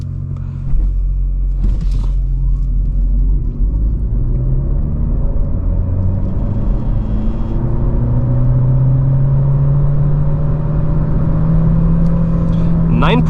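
A Renault Clio E-Tech 145 hybrid launching hard in sports mode, its engine note rising steadily as the car accelerates through gears, loud and close from inside the cabin, with a brief exclamation near the start.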